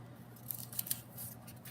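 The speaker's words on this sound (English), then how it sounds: "I'm going to cut a piece." Scissors snip through a deco foil toner sheet for a see-through card, a few short crisp cuts that are quiet and close, with no talking.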